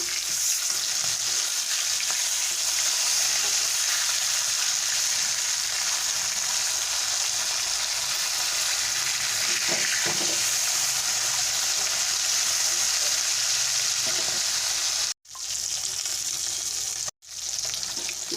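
Flipped pona fish pieces fry in turmeric oil in a wok, giving a dense, steady sizzle with faint stirring sounds and two short breaks near the end, with no voices.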